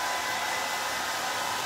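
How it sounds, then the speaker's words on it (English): A very old hairdryer blows steadily while drying custom-mixed creme caramel paint, giving a constant loud whooshing hum with no pauses and no talking. "this is a really old hairdryer"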